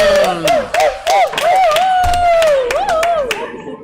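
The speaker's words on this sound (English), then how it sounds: "Crowd goes wild." A crowd erupts after the winning 9-ball goes down in a Scotch doubles pool tournament final, with loud, close whoops and cheering voices over sharp scattered hand claps, lasting a few seconds.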